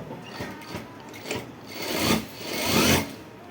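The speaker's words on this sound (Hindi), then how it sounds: "यहाँ पर सिलाई लगानी है किनारे की इस जगह" A sewing machine stitches along the edge of a pant pocket, a close, rasping mechanical run that swells and fades in uneven bursts with no one speaking.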